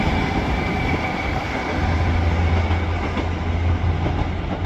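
A train rumbles steadily through Ardwick railway station in Manchester, heading toward Barrow-in-Furness via platform 14, with a continuous broadband roar and a low droning hum that swells in the second half.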